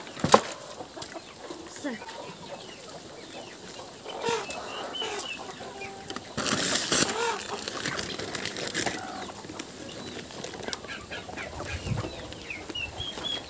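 Fighting poultry on a farm let out bursts of clucking and a sudden flurry of flapping wings, close and uneven, with a voice speaking briefly.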